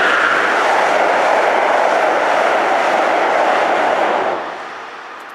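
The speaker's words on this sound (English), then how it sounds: "that's the Amtrak train right there" An Amtrak train roars past nearby, a loud steady rushing rumble that holds for several seconds and then fades away.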